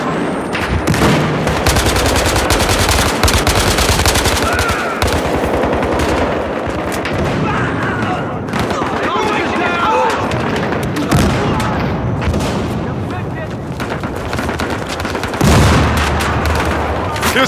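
Battlefield Hardline multiplayer firefight on the Hollywood Heights map: an incendiary explosion amid continuous loud automatic gunfire and booms, dense and unbroken throughout, with shouted voices mixed in.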